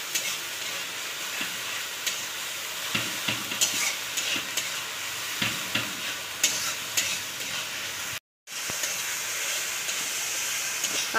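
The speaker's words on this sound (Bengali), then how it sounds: "সব মশলাগুলোকে আবারও তেলের মধ্যে কিন্তু খুব ভালো করে একটু কষিয়ে কষিয়ে ভেজে নিতে হবে।" Spices for katla fish biryani fry in oil while being stirred, a dense close sizzle with frequent scraping and clinking of a spatula against the pan, briefly cutting to silence before resuming; no one talks.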